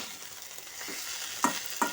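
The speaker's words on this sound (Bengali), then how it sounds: "বাদাম পোস্তর সাথে আলু পেঁয়াজকলিটাকে ভালো মতো করে মিশিয়ে নেব" Potatoes and onion stalks being stirred into a nut and poppy-seed paste in a pan: a faint low sizzle with two brief, louder scraping strokes near the end, no voices.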